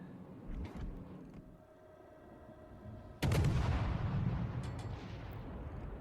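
Naval guns on the San Diego warship fire in World of Warships: Legends. After quieter ambient rumble, one heavy, loud boom breaks in, followed by a sustained rolling roar with a few later cracks.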